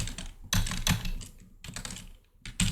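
Bursts of typing on a computer keyboard while entering commands, quick clusters of close, crisp keystrokes separated by short pauses.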